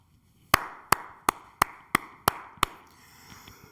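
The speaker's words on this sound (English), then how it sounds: "I gotta clap" Seven sharp, evenly spaced hand claps from a single person, close and distinct with brief reverb between each, followed by a faint voice starting.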